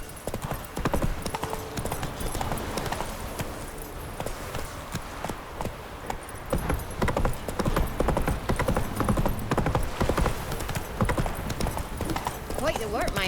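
The horse Roach gallops in The Witcher 3, its hooves beating a rapid, steady clip-clop under a dense game soundscape, with voices talking over the hoofbeats.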